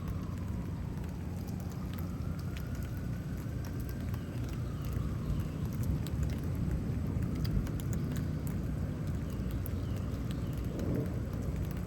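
Steady rain falls throughout a thunderstorm in Houston, Texas, with low rolling thunder rumbling under the constant hiss and patter of drops.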